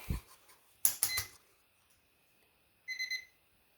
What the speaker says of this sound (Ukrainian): О, будильник.